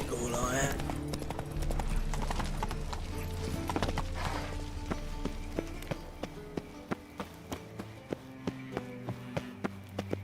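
Horse hooves clip-clopping in The Witcher 3, a steady galloping beat under game music, the hoof knocks growing sharper and more regular toward the end, with a whinny near the start.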